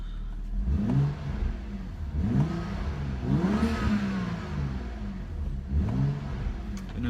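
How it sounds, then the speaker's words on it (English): Cold BMW M235i engine revving in sport mode with the exhaust valve open, several rising and falling rev blips spaced a second or two apart, close and fairly loud. "I know it's not good to rev a cold engine, but here we are, revving a cold engine"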